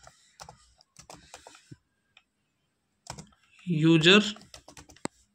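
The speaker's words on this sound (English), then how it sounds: "So we need to type here the command here only" Quick, uneven keystrokes on a computer keyboard as a command is typed into the Windows command prompt, close and crisp, followed by a short spoken word and a final click.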